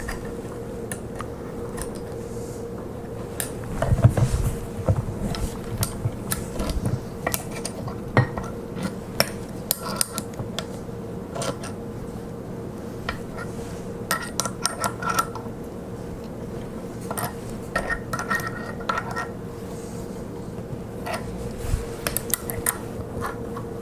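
Tosa Tool modular vise jaws are tightened down with a run of close metallic clicks, rattles and ratcheting clanks over a constant low machine hum, coming in uneven bursts.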